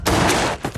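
A short, sharp burst of gunfire from a gang shootout in Peaky Blinders: a few loud, close shots fired in quick succession, lasting under a second.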